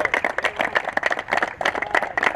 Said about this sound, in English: So please, a round of applause for him too.